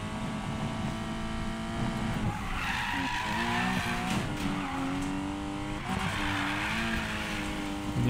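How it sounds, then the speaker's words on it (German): A car drifts in Need for Speed Payback, its tires squealing in a long, continuous skid over a steady engine drone, rising and wavering as the slide goes on. "Hier mal ein bisschen driften."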